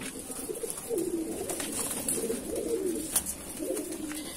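Madrasi pigeons coo in soft, repeated low throaty phrases, near and moderately loud, over a faint background hiss, with no one talking.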